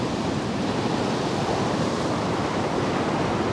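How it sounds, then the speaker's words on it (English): Sea waves surge through a small coastal blowhole at a windy seafront, giving a loud, constant roaring wash of water and wind noise with no voices. "So when a big wave comes in, you have like a little blowhole"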